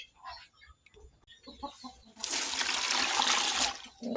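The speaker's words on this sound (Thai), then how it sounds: "ล้างไข่มดแดงก่อน" Water splashing and sloshing loudly as red ant eggs are rinsed outdoors, a sustained rush in the second half after quieter handling noises and faint background sounds.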